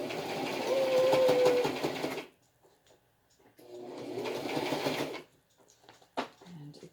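A home sewing machine stitches a homemade HEPA filter face mask, running in two close, steady bursts with a quiet pause between and a few soft clicks and handling noises after.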